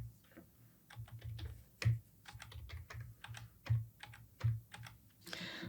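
Parameters being typed on a computer keyboard, a close run of crisp key clicks in irregular bursts over a low steady hum, with no speech.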